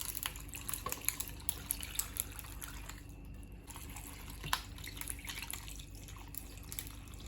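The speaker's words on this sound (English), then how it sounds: "And some nice cold water." Cold water trickles and splashes into a bowl of salted cucumbers and ice, a steady, close dribbling and dripping with brief pauses, quiet and without talk.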